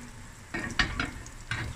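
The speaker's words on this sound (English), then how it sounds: "now I'm just going to allow the fine noodles to brown" Fine vermicelli noodles browning in a pan over medium heat give a soft sizzle, with a few brief stirring scrapes close by, quiet and with no talking.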